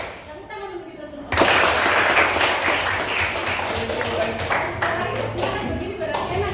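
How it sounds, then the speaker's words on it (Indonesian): A room of people at an Indonesian teacher-training session break into sudden loud applause after a brief moment of speech, with close, dense clapping that tapers slightly. "Tepuk tangan untuk kita semua."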